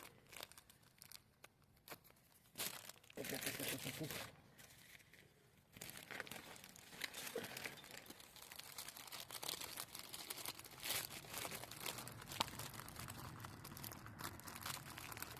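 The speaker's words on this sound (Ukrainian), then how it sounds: "Ось такий є у мене хлібний пакетик." Crinkling of a plastic bread bag, with bursts of crackly rustling that start and stop before becoming continuous, close up and fairly loud.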